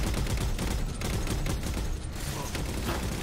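Gunfire coming from above in the video game Halo 4, a sustained rattling barrage of shots that stays loud and steady across the stretch, with no speech.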